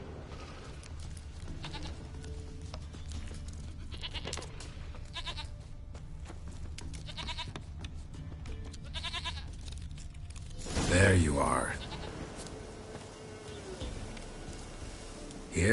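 A goat bleats once in a PS4 video game, a short, fairly loud cry near the end over quiet game ambience, with brief speech beforehand.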